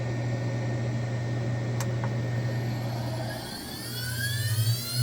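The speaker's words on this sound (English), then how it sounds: "I can hit run on my spindle" On a Cue Demon CNC XL shaft profiler, the spindle motor starts up with a steady electric hum and rising whine that climbs in pitch toward the end, close and continuous with a single sharp click partway through.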